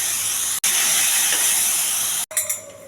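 Gongura leaves sizzle loudly in hot tempering oil for a gongura chutney, a bright steady hiss that cuts out abruptly twice, then returns with a few faint clinks.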